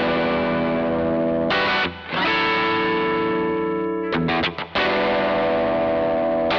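Electric guitar played through a Cusack Screamer V2 overdrive pedal with the tone knob turned all the way up, loud sustained distorted chords and notes with brief gaps, bright and close.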